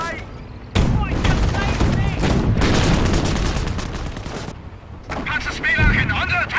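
In the World War II strategy game Company of Heroes, set at Oosterbeek during Operation Market Garden, loud continuous gunfire and artillery bursts rattle and boom in waves, with voices shouting over the battle.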